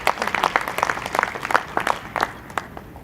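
Applause at an opening ceremony, a modest scattering of claps following an introduction of an executive chairman, irregular and moderately close, fading near the end.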